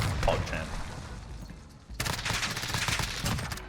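Rapid MP7 submachine gun fire in a competitive video game firefight, coming in a dense burst near the start, then a quieter gap and a louder sustained stretch of shots with spoken commentary over it.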